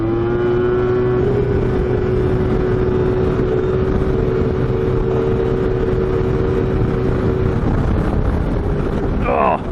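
A Yamaha Viper snowmobile engine runs close by in the Wisconsin woods, a loud, steady droning hum with strong tonal overtones, buffeted by wind noise throughout.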